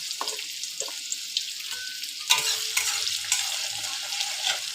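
Chopped onion fries with black cumin seeds in hot oil, a bright steady sizzle punctuated by several stirring clatters and scrapes, close and fairly loud.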